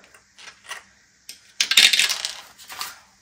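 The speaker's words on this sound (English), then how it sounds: "I'm going to go ahead and roll the dice" A few small dice rolled and clicking against each other and a hard surface: light ticks first, then a louder clattering tumble that settles into scattered taps, close by with no talking.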